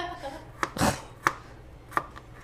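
A knife chops garlic on a cutting board in a few sharp, close strikes spaced about half a second apart, with one broader, heavier cut early on and no talking.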